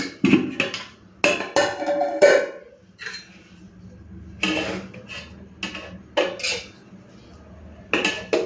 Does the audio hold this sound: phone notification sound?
no